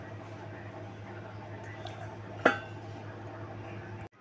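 A steel appe pan is set down on a gas stove with a single sharp metallic clink, heard once near the middle over a steady low hum of the burner and room.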